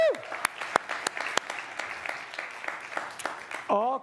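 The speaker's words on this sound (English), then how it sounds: "Can we get a round of applause for all of the..." A congregation at a Sunday celebration applauds in a sustained wash of clapping, with a few whoops and a short cheer rising above it near the end.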